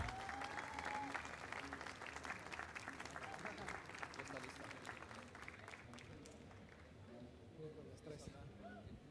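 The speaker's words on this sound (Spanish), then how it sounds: "Un aplauso." Audience applause at a finalist project presentation event, a sustained wash of many hands clapping with scattered voices and a brief cheer, gradually thinning toward the end.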